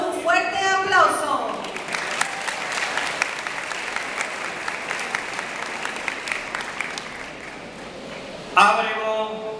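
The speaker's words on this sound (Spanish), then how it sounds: "Lo recibimos con un fuerte aplauso." Steady, crisp applause from the audience at a school graduation ceremony at Centro Educativo La Primavera, filling the middle of the clip, with a voice speaking over a loudspeaker before and after it.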